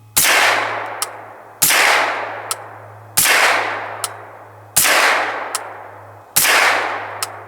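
Suppressed rifle firing subsonic ammunition, five evenly spaced muffled shots about a second and a half apart, each a sharp report with a short decaying tail and a faint metallic click after it, heard alone over a steady low hum.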